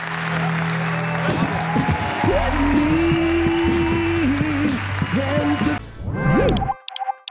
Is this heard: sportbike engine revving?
no